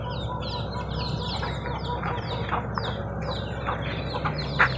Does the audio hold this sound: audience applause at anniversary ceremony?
no